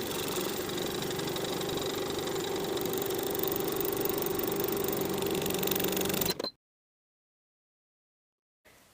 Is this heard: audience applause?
no